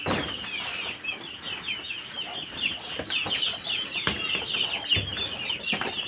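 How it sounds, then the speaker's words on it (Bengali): Desi hens kept on a home poultry farm cluck and chatter while eating inside their coop on a rainy day, a busy overlapping chorus of close calls with occasional wing flutters. "মুরগিগুলা ঘরের ভিতরে খানা খাইতেছে"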